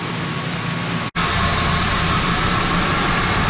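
A 2013 Chevrolet Suburban engine runs on a dyno with a steady, even drone and faint tonal hum, cut briefly by a sharp dropout about a second in before resuming unchanged.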